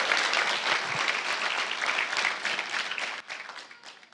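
A church congregation applauds during a Spanish-language sermon, a loud, dense wash of clapping that holds steady before thinning and tapering off toward the end, with no voices over it.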